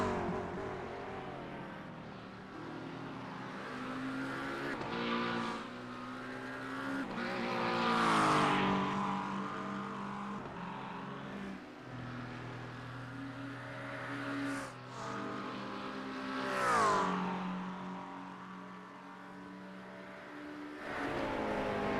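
Race cars in an endurance racing game roar through the first chicane and out of the Lesmos, engines rising and falling as they brake and accelerate, with tyres squealing briefly, loud and continuous without talk.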